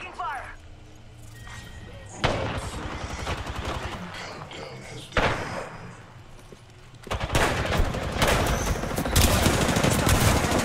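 Apex Legends gunfire in the Shadow Royale limited-time mode: loud bursts of automatic fire with sharp impacts, at around 2, 5 and 7 seconds, then sustained shooting to the end, with a player talking over it throughout.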